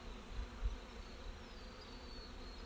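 Honeybees crowd over a hive cover during a queen cage check, a soft continuous buzzing hum close by, with a few faint knocks near the start.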